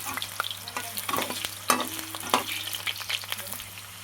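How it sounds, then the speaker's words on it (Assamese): Potato pieces sizzle steadily in hot oil in a pan while a chicken curry is being prepared, with dense crackling and a few sharper scraping stirs standing out near at hand. "প্ৰথমে মই আলু কেইপিচ ফ্ৰাই কৰি ল'ম"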